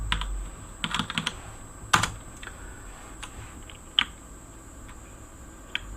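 Typing on a computer keyboard: scattered close, crisp key clicks in short bursts with pauses, quiet and alone with no talking.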